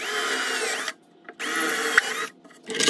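A power drill whines in two bursts with a short pause between, pitch rising and falling as it bores holes with a number seven bit held straight by a guide block, followed by a third start.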